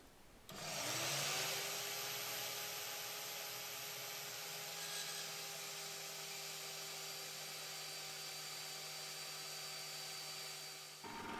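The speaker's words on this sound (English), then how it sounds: "I can cut off the angles on the tops and the bottom to make it look a bit more like a vise" A steady machine cut through the angled corners of steel hand vise jaws in a home workshop shed, with a sustained whining tone that starts abruptly and runs unbroken before stopping.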